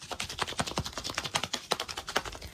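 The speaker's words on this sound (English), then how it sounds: "In this particular capsule, the noise of it varies depending on the direction that it's shaken." A small Miniverse capsule is shaken, its contents rattling in quick, irregular clicks and taps that come in a rapid, close-up patter throughout.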